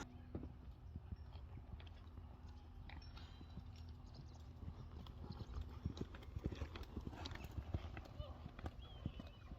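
A horse canters through a dressage test in a school arena, its hooves thudding in a quick rhythmic beat, faint and somewhat distant, while a person speaks over it.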